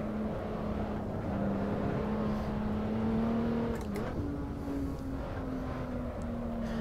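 Steady engine drone of a Lotus Evora S in the Assetto Corsa racing game, holding a near-constant pitch with a slight dip and rise, close and continuous with no talk.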